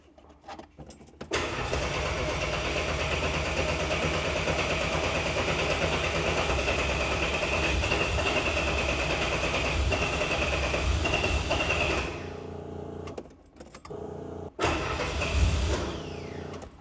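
A homemade engine, apparently a small turbine-type unit with a start-fuel setting, runs from a cold start: it spins up quickly into a loud, steady, roaring whine with a high tone, holds for about ten seconds, then drops away with brief restarts near the end.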